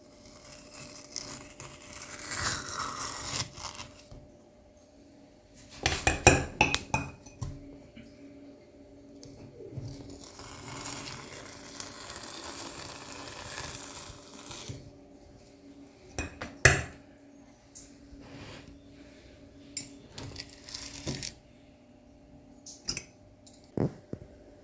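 A spoon scoops and scrapes homemade three-ingredient mango ice cream straight from the freezer, giving irregular sharp clinks and scraping bursts separated by quiet pauses.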